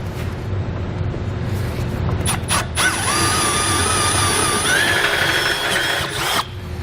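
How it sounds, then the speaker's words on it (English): Power drill with a 1/2 inch bit whirring steadily while boring through the metal of a 2013 Ford Taurus for a Curt trailer hitch, with a rising whine, short bursts at the start, and a grinding tone throughout. "I'll take a 1/2 inch drill bit or die grinder. We're going to open up this inside hole"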